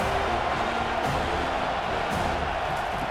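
Dense, roaring stadium crowd noise in EA College Football 25 during a California at Florida State game, a steady loud wash of cheering with no clear breaks.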